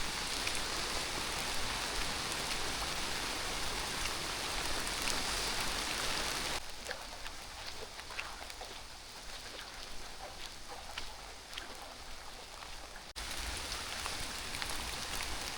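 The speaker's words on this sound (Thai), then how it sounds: "โอ้ฝน" Steady, dense rain falls in the forest, a continuous hiss close by throughout, softening slightly midway before returning heavier, with individual drops pattering on nearby surfaces.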